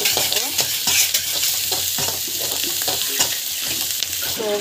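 Spices with turmeric and asafoetida sautéing in a pan, a continuous close sizzle broken by repeated rhythmic scrapes and taps of stirring, no speech.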